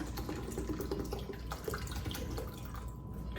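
Bottled water is poured steadily into a pot of rice, producing a continuous splashing trickle at low volume, close by.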